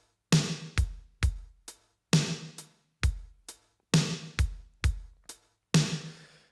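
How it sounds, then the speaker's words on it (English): Drum machine style samples of kick, snare and hi-hat play together in a sparse, loose groove, with punchy low kicks, bright snare hits carrying some reverb and crisp hats, about a dozen hits alone with no talk. "the three things together, kick, snare, and hat, sound like this"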